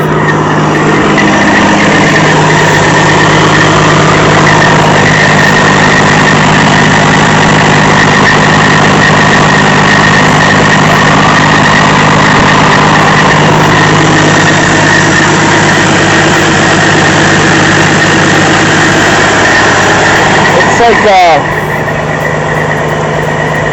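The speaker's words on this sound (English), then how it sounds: "Like a tinging kind of noise, like a kind of a high-pitched noise, the rattle." A 1995 Peterbilt 377 truck engine idles steadily and loudly for a long stretch, with a thin high-pitched tinging rattle running over the low rumble until a brief shift near the end.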